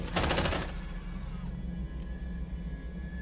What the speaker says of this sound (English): you don't usually get a chance to see like 3 shotguns go all at once